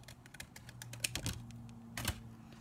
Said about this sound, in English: Scissors and cut that out.